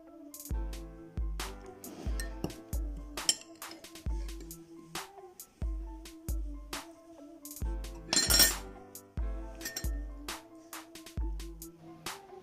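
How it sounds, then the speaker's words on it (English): Mixing salt, baking soda and lemon juice in a glass: quiet, repeated spoon-on-glass clinks and light tapping in an irregular rhythm, close and faint, no voices. "Now mix all the ingredients very well"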